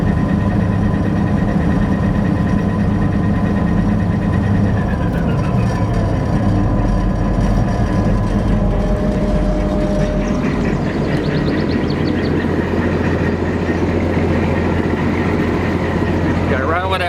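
An old Massey Ferguson 760 tractor engine cranks with difficulty, catches, then idles and revs in a steady heavy rumble. It carries on loud and close throughout.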